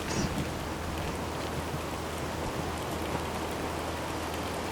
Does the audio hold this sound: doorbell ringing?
no